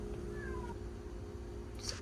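A cat gives a short, faint meow, then another brief cry near the end, heard over a low steady hum in a home kitchen where bread is baking.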